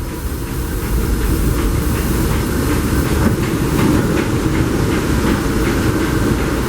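A Disneyland Railroad train rolls along its rails with a constant loud rumbling and faint rhythmic clacking, heard from on board without voices.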